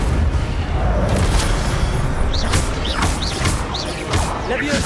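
Fire spells cast during combat in Hogwarts Legacy, a loud, dense run of crashing blasts and booms with several sharp whooshing bursts in the second half, set against continuous battle noise.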